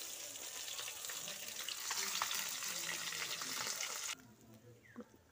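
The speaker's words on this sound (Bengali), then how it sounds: "মাছগুলো খুব ভালো করে ভাজা হয়ে গেছে" Fish frying in hot oil in a pan, a dense close sizzle with crackling spatters that stops abruptly near the end, leaving a quieter tail with a faint knock.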